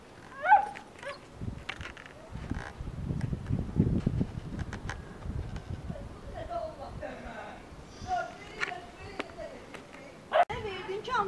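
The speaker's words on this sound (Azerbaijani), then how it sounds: "Orada balaca it də var." A small dog gives faint whimpers and short yips amid household sounds, with people talking nearby throughout.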